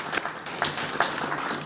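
Faint, steady applause from a gathered audience at a Shriners charity check presentation for a hospital, a continuous patter of many hands with a few sharper claps standing out.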